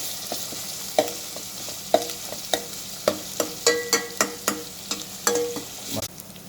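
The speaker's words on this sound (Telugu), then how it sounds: "అల్లం వెల్లుల్లి పేస్ట్ పచ్చి స్మెల్ పోయేంత వరకు కొంచెం ఉడికించుకొని" Ginger garlic paste frying in a pan for a fish curry, a soft continuous sizzle broken by a regular series of sharp spoon-scraping and stirring clinks, close up with no talk.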